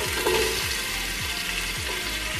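Onions sauté in hot oil as the start of a chicken afritada, a loud, dense and continuous sizzle heard up close, with faint rhythmic low thumps beneath and no talking.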